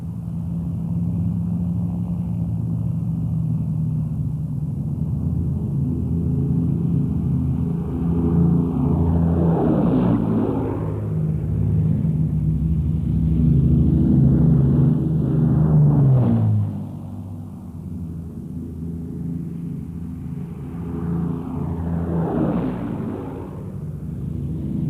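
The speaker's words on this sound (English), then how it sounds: "Lancasters tend to turn to port on the takeoff run, the pilots advancing the port throttles to counteract the swing" Avro Lancaster bombers run up their engines on the takeoff run, a continuous heavy droning roar that swells and fades as aircraft pass, fairly loud with no voices.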